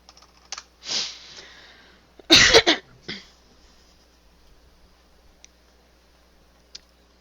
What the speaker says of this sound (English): Is that you typing, or is that Morgan taking over your hangout?